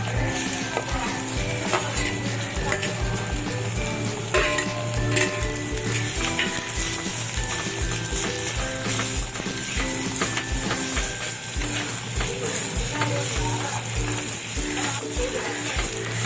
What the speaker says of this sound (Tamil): பெரிய சைஸ் வெங்காயம் ஒன்று போட்டிருக்கேன். அது நல்லா வதக்கி எடுத்துடலாம்.